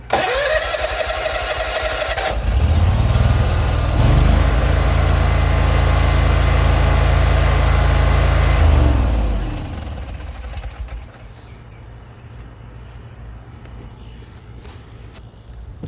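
A riding lawn mower's engine cranks and catches, then runs at a steady, loud, close rumble for several seconds before being throttled down and shutting off, leaving quiet background.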